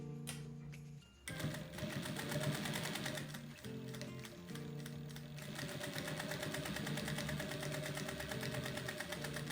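Sewing machine topstitching the edge of a cotton dish towel in white thread, starting after a short pause and then running in a steady, fast mechanical rattle up close with brief slowdowns.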